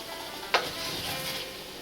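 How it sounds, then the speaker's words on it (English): Spicy fried rice sizzles steadily in a hot pan turned up high to crisp, with a sharp pop near the start over the continuous close hiss. "those popping sounds are really sounding good. My rice is really starting to cook."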